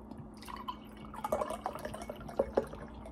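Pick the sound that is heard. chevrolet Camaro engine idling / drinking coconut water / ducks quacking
drinking coconut water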